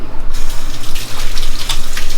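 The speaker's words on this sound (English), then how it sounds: "wash your hands real good" Tap water runs loudly into a kitchen sink as hands are rinsed while making homemade meatballs, a close, continuous splashing gush with pulsing variations.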